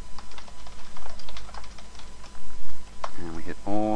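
Fingers typing on a computer keyboard, a close run of quick, uneven key clicks, with a voice starting to speak over the last second.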